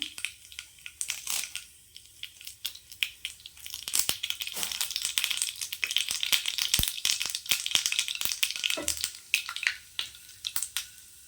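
Mustard seeds and urad dal hit hot oil in a pan for a peanut mint chutney tempering, giving a close, dense crackle of sharp pops and sizzling bursts that runs throughout with no talking.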